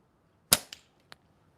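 A slingshot fired once, a single sharp snapping crack followed by two smaller clicks as the shot lands, close and loud against a silent background.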